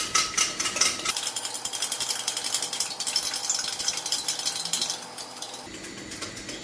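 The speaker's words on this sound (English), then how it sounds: "So keep whisking it away till it's pretty much liquefied." A fork whisks eggs in a bowl for an omelette, a fast rhythmic metallic clatter and scrape repeating close by, briefly louder and busier in the middle before easing back.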